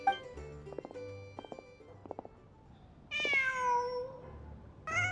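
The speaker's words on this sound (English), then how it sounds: "Just a cat." A cat meows in Genshin Impact, a couple of clear, drawn-out rising and falling meows following a stretch of soft clicking and tapping game sounds.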